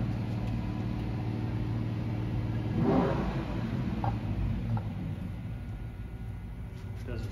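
A carbureted LS engine fitted with a ported M90 supercharger runs steadily with a dense, rumbling drone, swelling briefly as it revs near the middle before settling back to a rough idle.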